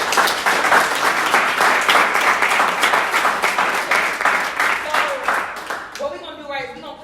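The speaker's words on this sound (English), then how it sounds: "let's give a round of applause for Hogan." Audience applause for Hogan at a team gathering, dense steady clapping from a crowd for about six seconds, then fading as a voice begins speaking near the end.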